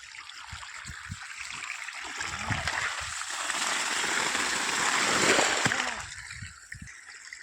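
Water gushing from a farm pump run through a DC-to-AC controller, a broad steady rushing flow that swells and then fades over several seconds, with splashy spatters and low thumps around it.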